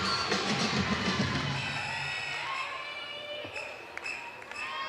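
A live crowd cheers at a UNC at Pittsburgh college gymnastics meet, a steady broad roar of voices and shouts that eases slightly partway through, with a few sharp knocks near the end.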